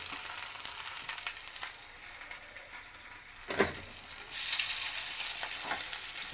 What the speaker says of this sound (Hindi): ये एक एक करके आप इस गरम ऑयल में डालें